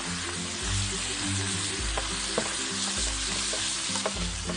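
Beef, slightly fatty and cut in pieces, sizzles and crackles steadily as it is dry-fried in a hot pan, with repeated scraping stirs from a utensil and a low hum underneath; no one speaks.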